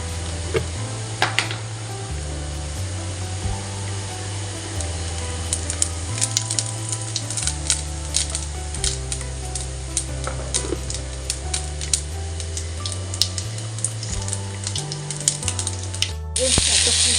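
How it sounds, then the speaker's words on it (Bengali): Whole cumin seeds sizzling in hot oil in a home kitchen pan, a continuous crackling sizzle with scattered pops and utensil taps over a low steady hum, ending abruptly. "তেলটা গরম হয়ে গেলে এতে দিয়ে দেবো একটু গোটা জিরে"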